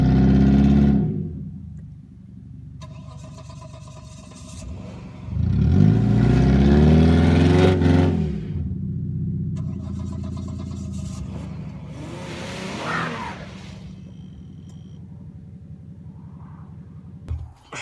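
Cadillac V8 race car, worn out after a race, cranks and runs rough for a few seconds, surges in a loud throaty burst, then sputters and dies, leaving quiet rumble and later small revs.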